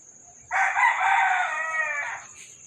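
A rooster crows once, loud and close: a long, strained call lasting over a second and a half against a quiet background.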